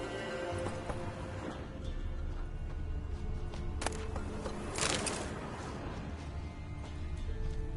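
Horse hooves clip-clop with an occasional neigh from the horse Roach in The Witcher 3 video game, set against a steady game ambience; the hoofbeats are moderate and fairly close, with no talking.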